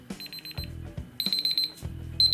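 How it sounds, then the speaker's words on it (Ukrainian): An alarm clock beeping in rapid repeated bursts, a high electronic tone pulsing in quick groups with short pauses between, fairly close and moderately loud. "Щоб вимкнути будильник, треба натиснути будь-яку кнопку."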